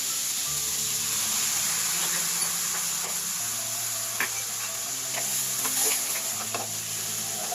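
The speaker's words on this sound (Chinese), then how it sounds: "接着烹入酒去腥，再放入生抽、糖、葱段及水。" Wine, soy sauce, sugar, scallion pieces and water go into a pan of frying pork for braised pork with dried eggplant, giving a steady sizzle with stirring clatter and a few sharp scrapes throughout.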